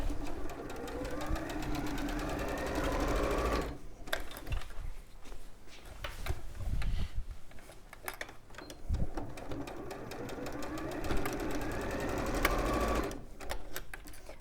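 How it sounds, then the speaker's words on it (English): A sewing machine runs a quarter-inch seam across fabric for a sashiko bag, its rapid needle clatter continuous and close, with brief slowdowns and pauses; faint talk may sit underneath. "I'll sew across this one."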